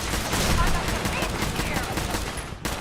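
Gunfire from an ambush in the video game Fallout 4, a dense burst of shots with machine-gun fire that is loud and continuous throughout and then cuts off sharply near the end.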